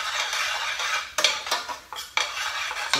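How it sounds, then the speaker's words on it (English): A spoon stirs garlic in a pot on the stove, scraping and clinking against the metal in several sharp strokes over a low sizzle, close and alone. "I'm going to stir the garlic in."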